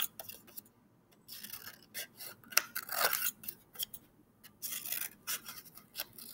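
Scissors cutting out paper stars for a children's art activity: repeated close crisp snips and rustling paper cuts in irregular bursts, loud and up front with no talking.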